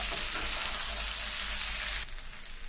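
Country chicken fries in chicken masala, a dense, even sizzle close by that drops away abruptly near the end; no voices.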